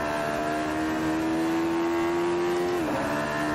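Radical SR3 race car engine in the racing game Assetto Corsa, a steady high-pitched buzzing drone at constant revs that drops sharply near the end, close and loud with no voices.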